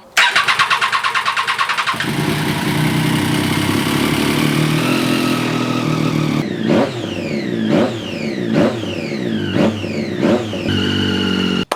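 A Triumph 675 Daytona motorcycle engine cranks with a rapid starter whirr, then catches and settles into a loud, steady idle, followed by a string of sharp throttle blips that rise and fall several times.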